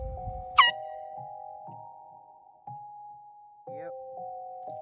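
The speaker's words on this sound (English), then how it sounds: "I'll let you all hear this, my air horn one more time." A loud air horn blast sounds once, then sustained steady horn tones continue through the clip with a few dull thumps and brief background voices underneath.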